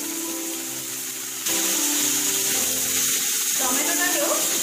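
Chopped tomato starts to sizzle in a hot pan of browning masala, the frying hiss jumping louder as the tomato goes in, then holding steady and close.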